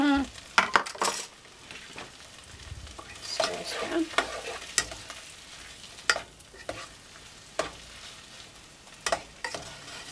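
Mushrooms crushed and stirred in a pot for a creamy keto mushroom soup, heard as scattered close scraping, clinking and stirring knocks with brief gaps between them, without talk.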